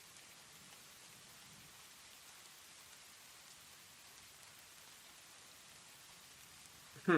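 Steady soft rain falling throughout, a fine even hiss at low level, with a brief louder knock or bump right at the end.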